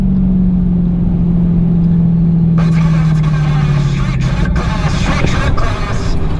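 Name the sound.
race car launching at Street Car Takeover drag race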